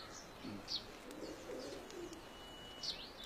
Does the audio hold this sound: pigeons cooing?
yes